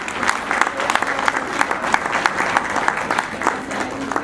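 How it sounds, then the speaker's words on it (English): An audience claps at a formal UNFPA anniversary event in the Gambia, with uneven, sharp individual claps standing out from a moderately dense round of applause that keeps a fairly constant level throughout. "Another round of applause for Madam Zainab."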